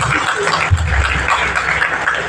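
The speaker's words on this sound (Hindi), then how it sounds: "एक बार जोरदार ताली बजनी चाहिए।" Applause from the audience at the Metro Tyres Ltd launch event in Kolkata, a steady wash of clapping with a busy room murmur mixed in throughout.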